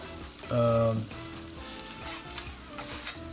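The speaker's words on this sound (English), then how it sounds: "This is going to be a real quick 1 minute saute basically of the chili," Chili, ginger and garlic sautéing on a Blackstone 22-inch griddle, a steady close sizzle with stirring scrapes and a brief tonal metallic ring early on, with a voice talking over it.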